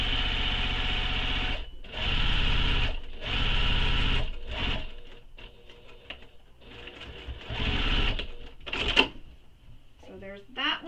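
Sewing machine stitching a pocket onto a tote bag panel, running in loud close bursts of rapid, even stitching separated by short pauses, with a few clicks and handling noises near the end.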